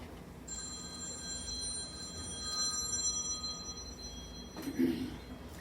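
A telephone rings with a steady electronic trill that starts half a second in and runs for several seconds, sounding from across a home kitchen over low background hiss, with a short knock near the end.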